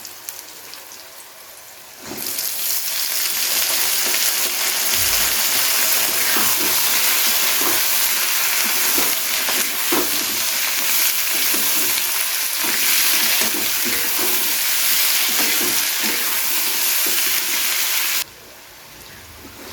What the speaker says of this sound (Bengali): আমাদের পেঁয়াজকলি কিন্তু ভেজে নেওয়া হয়ে গেছে